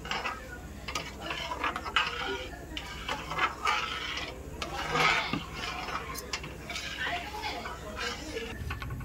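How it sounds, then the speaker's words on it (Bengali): Semolina (suji) being fried in a pan for suji paratha, with soft scraping and light ticking of a spoon against the pan beneath a person talking nearby. "সুজিটাকে প্রথমে দিয়ে এমনি করে ফ্রাই করতে হবে।"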